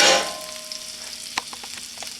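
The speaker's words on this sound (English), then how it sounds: "We're going to add our garlic to that. And stir that around for a minute." Garlic stirred into melting butter in a pan for a pumpkin gratin topping gives a short, soft sizzle at first, then settles low with a few light spoon taps and scrapes, close by and without talk.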